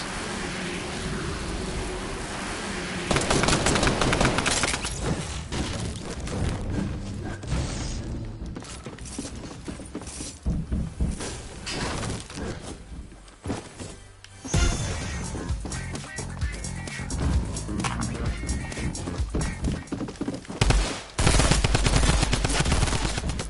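Rapid video game gunfire rattles almost nonstop in loud, dense bursts of automatic fire mixed with single shots and impacts, with only brief lulls.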